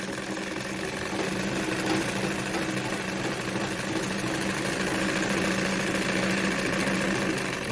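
Victoria Deltmod model 235 sewing machine running steadily while stitching, a continuous mechanical whir and rapid needle clatter held at even level throughout, close and alone without talk.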